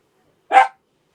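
One sharp dog bark, close and loud, cuts through otherwise silent surroundings.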